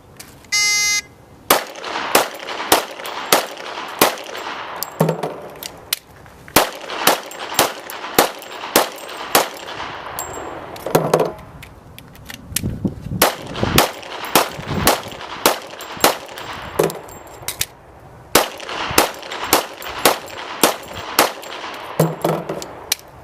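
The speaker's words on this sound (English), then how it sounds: "Now she'll demonstrate shooting 30 rounds with 6 rounds" Sustained gunfire as 30 rounds are shot from five separate magazines of six rounds each, loud sharp reports in rapid strings broken by brief pauses for magazine changes, with metallic clanks between strings and no talking.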